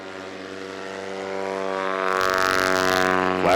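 Propeller-driven STOL airplane at a Rocky Mountain short takeoff and landing competition, its steady harmonic engine and prop drone growing louder and rougher as it nears and throttles up, with no talk over it.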